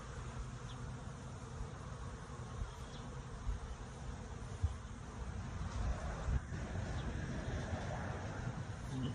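Wild honeybee swarm clustered on a tree, a dense continuous buzzing drone, moderately close and steady, with faint wind in the background.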